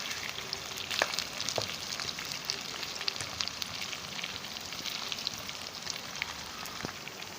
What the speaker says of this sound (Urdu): آلو دیکھیں فرائی ہو رہے ہیں